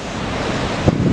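Wind blowing in off the sea at the Anglet beach, a loud rushing buffet on the microphone mixed with surf, with a stronger gust near the end of a short stretch.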